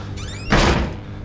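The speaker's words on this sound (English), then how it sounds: "You can close that door, by the way." A door pulled shut inside the Outlast horror game, a single solid thud-and-slam landing midway after a faint creak, fairly close and loud, with a dull resonant tail fading out.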